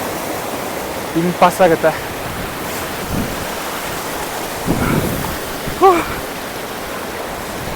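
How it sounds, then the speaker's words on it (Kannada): Continuous rushing roar of Jogini waterfall near Manali, a dense steady wash of water noise, with a few short bursts of voices talking over it. "ಜಿಗನಿ ಫಾಲ್ಸ್ ಹತ್ರ ಬಂದಿದ್ದೀನಿ"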